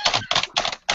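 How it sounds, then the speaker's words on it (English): Fast bursts of clattering keystrokes on a keyboard come in quick clusters separated by short gaps, loud and close with no talking. "I'm over here tapping on the damn keyboard"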